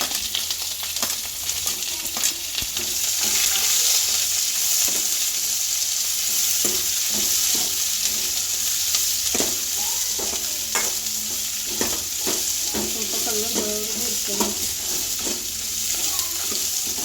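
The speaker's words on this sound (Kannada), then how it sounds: "ಬ್ರೌನ್ ಕಲರ್ ಬರೋವರೆಗೂ ಚೆನ್ನಾಗಿ ಹುರ್ಕೋಬೇಕು." Two thick onions fry for a mutton curry, giving a constant loud sizzle with frequent spoon scrapes and stirring scratches against the pan throughout.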